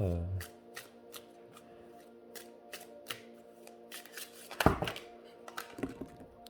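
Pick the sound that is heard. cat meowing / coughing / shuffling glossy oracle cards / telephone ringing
shuffling glossy oracle cards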